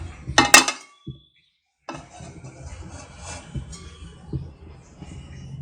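A kadai set down on a kitchen stove, giving a few sharp metallic clanks and clinks up close at the start, followed by quieter low knocks and handling sounds.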